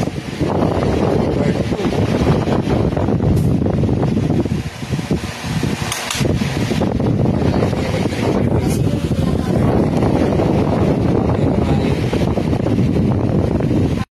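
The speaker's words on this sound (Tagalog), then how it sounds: "Testingan na natin yung ginawa natin electric fan." A repaired electric fan with a newly replaced motor runs continuously up close, a dense rushing whir with slight fluctuations and faint background voices.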